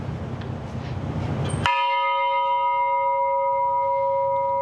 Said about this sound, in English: anyone who's up here actually has to ring the bell and kind of join the family